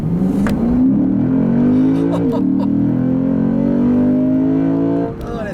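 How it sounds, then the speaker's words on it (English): A 2019 Lexus GS F in Sport Plus mode accelerates hard, its engine note climbing steadily in a loud, close intake growl, with a brief dip at a gear change before it settles near the end. "It's like all intake growl from that engine."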